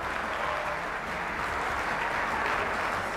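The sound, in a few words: audience applause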